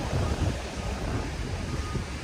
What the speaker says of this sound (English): The freaking waves here right now are crazy.